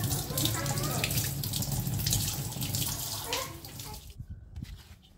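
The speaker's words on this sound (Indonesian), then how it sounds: "Langsung kita cepat siram air ya, supaya proses pendinginan lebih cepat lagi" Water is poured over a heated PVC pipe to cool it, a steady, fairly loud rush of splashing that runs for several seconds before breaking into lighter, uneven splatters and drips.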